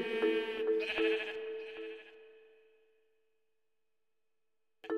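A single drawn-out sheep bleat, loud and close, trembles and then fades into silence, with a brief new sound starting right at the end.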